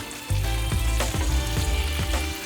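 A steak sizzles in a hot pan after flipping, a loud close crackle with a low humming drone and rhythmic bursts of spatter.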